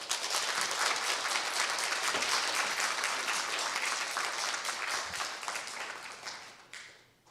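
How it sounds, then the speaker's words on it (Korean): A church congregation gives a warm round of applause to welcome a visiting pastor at a Sunday service, dense steady clapping that holds for about six seconds and then tapers off at the end. "우리 뜨거운 박수로 환영해 주시면 감사하겠습니다"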